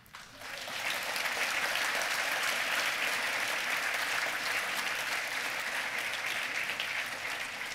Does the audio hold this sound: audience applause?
yes